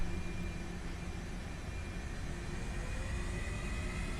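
A320 airliner engines spooling on the takeoff roll in a home cockpit flight simulator, a steady broad roar with a faint whine, even and unbroken throughout.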